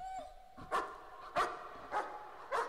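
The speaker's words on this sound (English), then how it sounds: "Hey, puppy! Stop barking!" A dog barking in the horror video game Layers of Fear, four sharp evenly spaced barks at moderate distance after a brief whine, with no talking.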